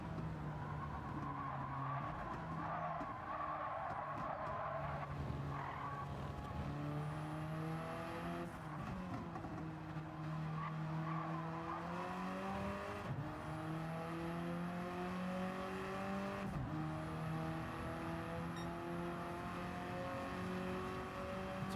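Tuned car at a Goodwood motor event revving hard with tires skidding, engine pitch climbing and falling repeatedly in loud sustained sweeps, close by, with no talk.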